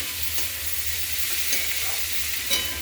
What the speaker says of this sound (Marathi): शेंगा मसाल्यामध्ये छान मिक्स करून घेऊ।